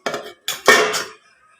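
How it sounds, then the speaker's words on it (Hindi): Koftas being added to a pot of spinach gravy and stirred, then the pot covered: a few metallic clinks and clatters of a spoon and lid against cookware, close and fairly loud, with no talking. "तो अब डाल देंगे ये मैंने जो कोफ्ते बना के रखे थे और इन्हें मिक्स कर देंगे। और बस लगभग 4 मिनट के लिए इसे ढक देंगे।"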